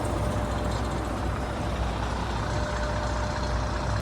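A BMT truck moves along a road, a steady, loud engine rumble with broadband road noise holding constant throughout, no voices.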